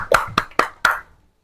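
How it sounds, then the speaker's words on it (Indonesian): Four sharp, distinct hand claps in a classroom for a student group, close and loud with a slight room ring, spaced unevenly before fading to quiet. "Oke, tepuk tangan untuk kelompok 1."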